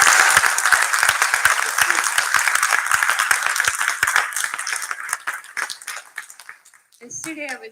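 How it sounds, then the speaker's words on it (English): An audience at a classical dance arangetram applauds, dense clapping that holds steady for several seconds and then thins out and fades, followed by a brief voice at the end. "Let's give them a big round of applause."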